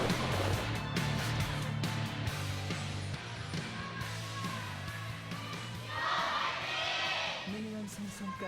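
Sold-out esports arena crowd at an LCK League of Legends match, SKT versus KT, a steady loud roar of cheering with yells and whoops swelling near the end, under continuous talk.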